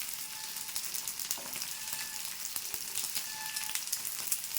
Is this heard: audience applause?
no